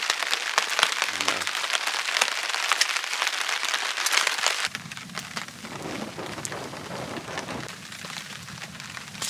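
Rain falls outdoors around a campfire during autumn fishing on the Kola Peninsula, making a dense, continuous patter on surfaces nearby, with a brief low thump partway through and the texture shifting softer afterward.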